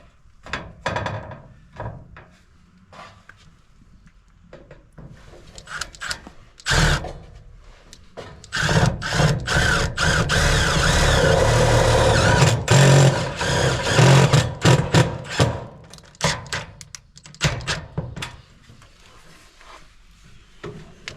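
A large screw is driven into wood on a lakehouse soffit and fascia build, heard as a sustained grinding whir of a driver lasting several seconds, preceded and followed by sharp clunks and knocks of the work, close by.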